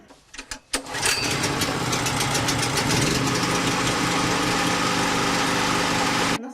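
A generator engine starts up and runs outside an apartment block, its exhaust vented to the yard: a few sputtering cranks, then the engine catches and settles into a loud, steady drone that cuts off at the end.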